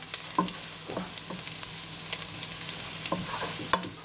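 Coconut, onion and garlic toasting in a pan with a low, steady sizzle, broken by occasional scrapes and clicks of stirring, close and fairly quiet, with no talking.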